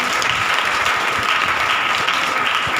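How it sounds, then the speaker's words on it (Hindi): A congregation at a Hindi Bible study claps steadily and loudly, a dense continuous patter of many hands with no break. "ताली बजा के"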